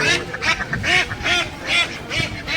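Geese on the water at the Bali Yatra fair in Cuttack give repeated nasal quacks and honks in quick bursts, fairly close, with faint background murmur.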